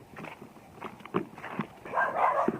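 Dog barking at a chicken outdoors, several sharp, irregular barks and yelps in quick bursts, closer and louder toward the end.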